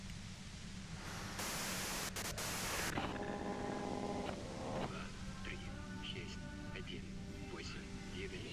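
Loud burst of static-like white noise in the video game Disco Elysium, a broad hiss that swells abruptly for a couple of seconds, then drops back under an ongoing voice and music.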